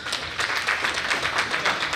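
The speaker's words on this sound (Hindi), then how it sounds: "एक बार जोरदार तालियां होनी चाहिए" Enthusiastic applause from attendees at a distributor training session, a brief loud round of clapping with rapid pulsing claps across the whole room, no talk over it.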